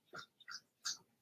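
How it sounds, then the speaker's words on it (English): A dog makes faint noises in the background, three short breathy huffs or whimpers spaced apart, quiet and close. "You hear noise in the background, it's my dog."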